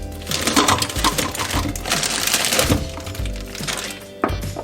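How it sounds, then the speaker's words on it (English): A food processor whirs and clatters as it blends frozen bananas into ice cream, loud and close, with chunky rattling and knocking that runs steadily for several seconds and ends in a sharp thunk. "We're going to need a processor to make the ice cream."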